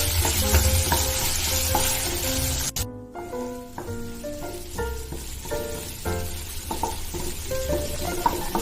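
Finely chopped tomato frying in a pan, a loud steady sizzle broken by repeated spatula scrapes and stirring strokes, with a brief dropout partway through.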